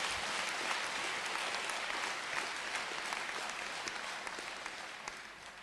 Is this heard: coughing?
no